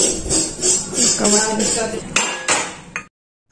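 Cooking utensils are scrubbed and washed, with rubbing and scraping followed by a few sharp metal clanks near the end, while a voice talks over the washing.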